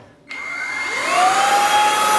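A K17 battery-powered cordless compact vacuum cleaner switches on with a sudden whir and spins up to a steady, high-pitched motor whine with a rising tone, close and alone.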